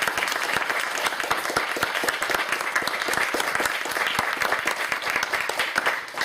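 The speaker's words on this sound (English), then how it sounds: "round of applause for our" Audience at a university college panel discussion applauds steadily for several seconds, many individual claps crisp and close within a continuous wash of clapping.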